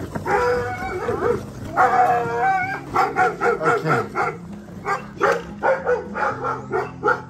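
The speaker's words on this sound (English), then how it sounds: "She has two like huge dogs, very guard dogs." Large guard dogs at a rural home on Ilha Itaparica, Brazil, barking loud and close. A long deep bark comes first, then a rapid string of repeated barks in an uneven rhythm.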